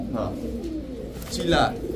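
Pigeons of mixed fancy breeds kept for sale at a dealer's loft give brief soft coos and flutters, fairly close, mixed with background voices and low room noise.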